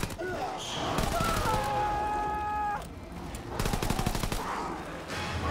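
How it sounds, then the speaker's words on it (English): Machine pistol gunfire in a WW2 zombies shooter, fast rattling bursts near and loud, one burst early and another later, separated by a brief sustained tonal effect and game noise. "This machine pistol is doing literally nothing."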